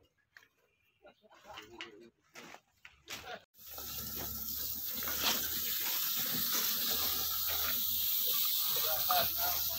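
Water sprays onto steel rebar at a concrete slab pour in Cagayan de Oro, washing it clean; broken near handling noises for a few seconds, then a steady loud hiss of running water that carries on to the end.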